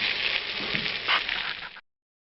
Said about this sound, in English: we're going to try to toast this rice a little bit, make it pick up the flavors from the vegetables that are cooking here